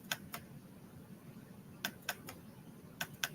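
Sharp clicks and key taps on a Chromebook come in small clusters of two or three, close and crisp over a faint background hum.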